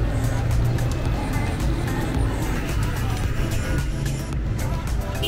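Dense street traffic in Pakistan, a steady roar of car and bus engines close by with a continuous low rumble and occasional horn-like tones, with faint voices mixed into the din.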